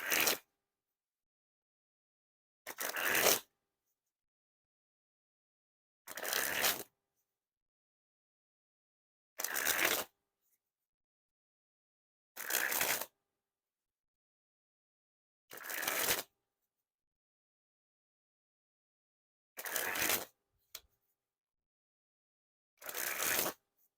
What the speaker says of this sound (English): First, we'll spring the cards.